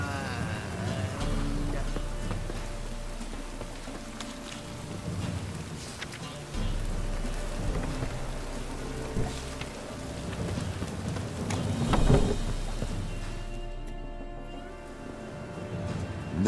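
Steady rain pours in The Witcher 3, with a low rumble of thunder and a denser swell of downpour midway, while a character's voice talks over the continuous hiss.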